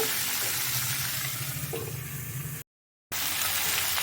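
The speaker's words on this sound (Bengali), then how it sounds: "তো সবজিটা আমি ঢাকাটা খুলে একটু নেড়ে নিলাম" Pumpkin and potato vegetables cooking in a pan with a steady hiss of sizzling moisture and a soft stir, close up. A brief silent gap breaks the sound before the same hiss resumes.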